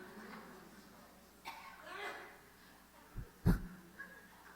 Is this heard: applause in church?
no